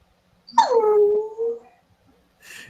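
A dog lets out a single drawn-out whimpering whine that slides downward and fades, fairly close and alone, followed by a brief faint noise.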